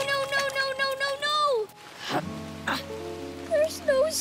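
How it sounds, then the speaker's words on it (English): Rain falling in an animated show, a soft patter heard under cartoon voices that whimper and cry out over it. "There's no sun, only rain."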